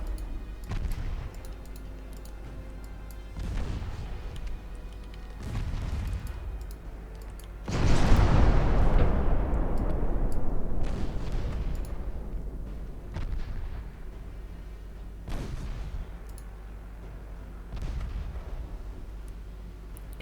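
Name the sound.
torpedo detonation explosions in a naval video game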